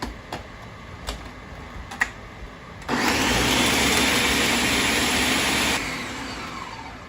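A blender whirs loudly as it purees tortilla soup with parsley and fried tortilla strips, starting abruptly after a few soft clicks, running at full power for about three seconds, then settling to a lower, steadier hum.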